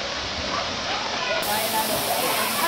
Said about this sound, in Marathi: बघा मस्त पाणी आहे बघा धबधब्याचा